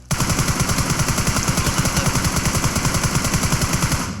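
Rapid automatic gunfire from PUBG Mobile rattles loud and close in one continuous burst of evenly spaced shots lasting about four seconds.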